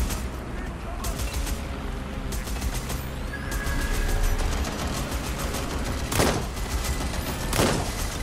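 Gunfire in the video game Watch Dogs Legion: several sharp shots crack out over a dense, steady bed of game noise, with two louder bursts near the end.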